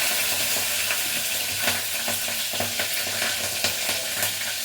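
Fennel, mustard seeds and green chillies sizzle in hot oil for a simple upma, a constant bright crackling hiss with light scattered pops and faint stirring clicks, close and steady.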